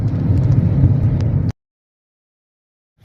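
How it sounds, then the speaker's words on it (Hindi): Strong storm winds roar steadily with loud low rumbling and buffeting for about a second and a half, then cut off abruptly into silence, on a roadside where the gale has brought trees down. "तो गाइस यहाँ पे आंधी आई हुई है"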